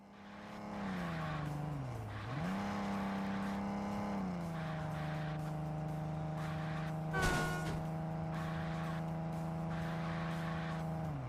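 A car engine in the racing game Underground Garage hums steadily while driving straight, with a sustained, tonal tire squeal, one pitch dip early and a brief sharp burst midway.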